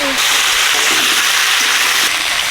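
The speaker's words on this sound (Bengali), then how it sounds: "শসার তেল দিয়ে দিচ্ছি" Mustard oil sizzles and crackles loudly in a pan, a close, steady frying hiss with light stirring.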